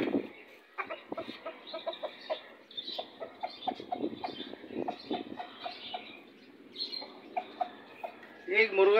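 A rooster and hen cluck in short bursts close by on a home rooftop in Karachi, mixed with chirpy bird calls, with a sharper crowing note at the end; people talk faintly under it.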